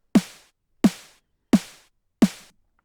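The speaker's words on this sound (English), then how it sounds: "So our snare now sounds something like this." A synthesized snare drum built from white noise strikes four times at an even pace, each hit a sharp, bright burst with a short decaying tail, dry and alone.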